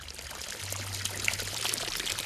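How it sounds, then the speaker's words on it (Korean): Groundwater gushes from a pipe into a salt kiln in a Laotian village, a steady, close splashing pour with a low hum running beneath it and no voices. "지하수는 물탱크를 거쳐 파이프를 타고 가마까지 연결돼"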